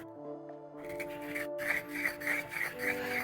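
A hand grinder breaks down cannabis buds with a dry, repeated rasping and scraping in short twisting strokes, close and fairly quiet, with no voices.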